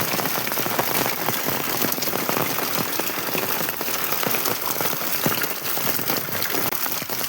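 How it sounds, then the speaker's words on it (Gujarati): Heavy rain has been falling steadily through the night in a Gujarat village, a dense, continuous hiss of drops hitting surfaces, loud and unbroken with no voices. "વરસાદ બંધ થવાનું નામ નહીં લેતો કાલ રાતનું પડે છે"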